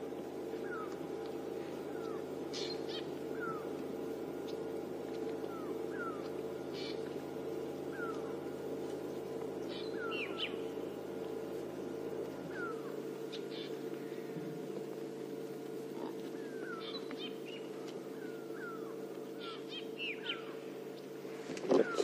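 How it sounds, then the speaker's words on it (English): Grey go-away birds giving repeated alarm calls on an African safari drive, short nasal calls scattered throughout at moderate distance over a steady low engine hum. "Some alarming going on from grey go-away birds."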